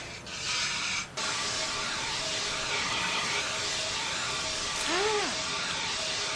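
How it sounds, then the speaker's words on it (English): Fire extinguisher spraying in Emergency 4 with the London mod: a steady, broad hiss starts abruptly, cuts out briefly, then resumes and continues under ambient game sounds and a short siren-like warble. "I just kind of want to grab a quick fire extinguisher and just kill this down"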